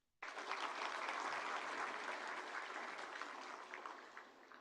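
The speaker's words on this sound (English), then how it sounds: "a big round of applause for them" An audience at a ceremony and mediation conference breaks into sudden applause, a full, even wash of clapping that starts abruptly and holds steady before slowly thinning.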